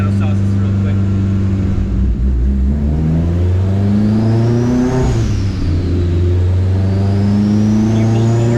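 A car engine revs loud and close on a dyno, pitch climbing and falling in sustained pulls, with voices talking over the engine noise.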